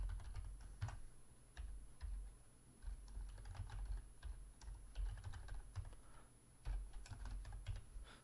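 Code being typed on a computer keyboard while writing a model-training function in R: quiet, irregular clusters of soft keystrokes with brief pauses and no talking.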